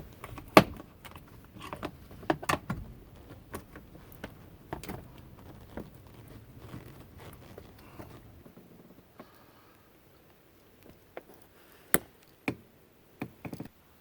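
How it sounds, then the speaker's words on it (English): A screw being removed and a plastic cover pried off the third-row seat latches of a Tahoe, Suburban, Yukon or Escalade, heard as close scattered clicks, knocks and scrapes that thin out into a few sharp taps. "we're going to have to remove a screw, pry down on the plastic cover, and lift up on the fabric to reveal the latches."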